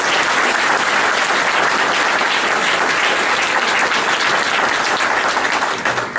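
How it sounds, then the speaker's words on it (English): Audience applauding the board of directors at an outdoor groundbreaking ceremony, a loud, sustained roar of many clapping hands that stays steady and dense throughout. "I'd like to give these folks a round of applause."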